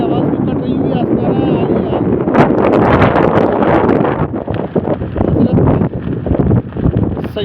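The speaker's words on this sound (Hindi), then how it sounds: "हवा चल रही है, आवाज़ भी कट रही हुई है।" Strong wind buffets the microphone in loud, continuous rumbling gusts at Matayan, Drass, Kargil, with someone talking over it throughout.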